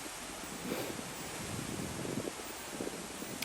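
Steady broadband wind noise buffeting the microphone on a sunny garden day, with soft rustling gusts rising and falling throughout.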